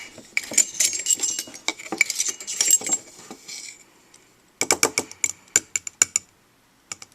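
A teaspoon stirs baking soda into water in a cup, clinking rapidly against the sides in two bursts of bright metallic taps, the second burst more spaced and rhythmic.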